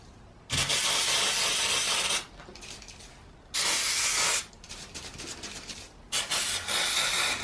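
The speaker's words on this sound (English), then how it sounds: "now attack this with some brake cleaner and see if we can get some more of that debris off" Brake cleaner sprayed from an aerosol can onto a removed EGR valve to clear debris: three long, loud, steady hissing blasts, each lasting a second or two, with quieter dripping and rattling between them.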